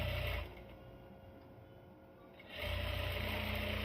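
A sewing machine runs in two quick loud bursts, stitching the third seam of a rayon long dress, with a quieter pause between the bursts.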